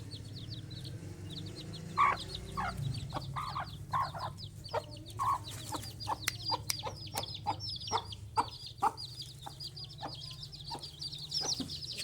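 Hens cluck and chicks peep in quick, repeated chirps over a low background hum, with a few louder calls scattered throughout.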